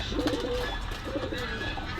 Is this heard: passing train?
no